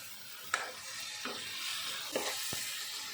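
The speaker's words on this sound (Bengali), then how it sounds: "এবার পরিমাণ মতো নুন দেবো, কষাবো ভালো করে।" Chicken korma masala with ground coriander, cumin, ginger and chili paste being stir-fried with salt in a pan, a soft continuous sizzle with a few brief scraping stirs, fairly faint and close.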